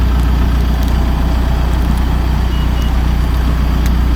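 A truck idling close by with a heavy, steady low rumble, while faint, regular reversing beeps sound faintly over the engine.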